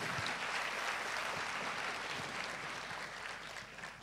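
An audience claps together in steady, dense applause at a live talk, holding an even level for about four seconds with no voices over it, then ending in a sudden louder burst.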